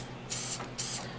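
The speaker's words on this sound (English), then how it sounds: "so I'll spray a little bit like this." Two short, close hissing bursts from an aerosol spray can aimed onto a craft cutting mat, separated by a brief pause, with no talking.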